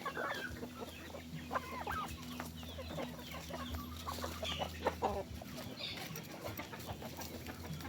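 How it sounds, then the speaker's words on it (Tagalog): Young native turkeys peep and cluck continuously close by, a busy flock of soft chirps over a faint steady hum. "Ito yung mga sisiw ng pabo natin."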